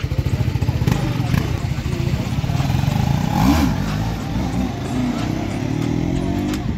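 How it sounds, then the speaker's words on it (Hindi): A motorcycle engine revs hard for a wheelie attempt on a dirt road, a steady loud drone with a rising pitch sweep partway through, close by and running the whole time. "बाइक की विली चेक करना है"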